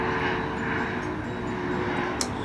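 An airplane passes overhead, a steady broad roar that holds at an even level throughout, moderately distant.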